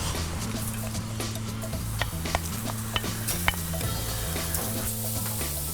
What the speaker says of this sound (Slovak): najskôr orestujeme do zlatista cibulu spolu s cesnakom